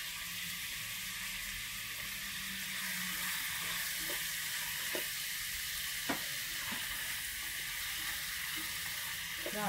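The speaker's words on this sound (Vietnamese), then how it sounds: "Tiếp tục cho đậu hũ tươi vào." Fresh tofu frying in a pan while a vegetarian mushroom hotpot is prepared, giving a steady, close hiss of sizzling oil throughout with a few soft clicks and stirring knocks, no voices.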